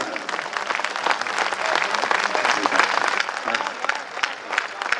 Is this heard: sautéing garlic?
no